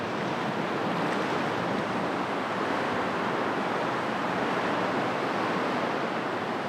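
Ocean swell and waves make a steady, broad roar around a small boat at sea, loud and unbroken throughout, with wind rushing over the microphone and no voices.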